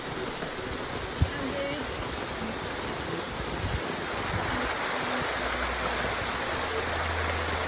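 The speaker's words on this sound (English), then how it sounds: "from above us came a torrent of water down towards us" A steady, loud rush of water pours down from above onto a rocky hiking trail in Saxony, broad and dense like a torrent close by, with a single sharp knock early on.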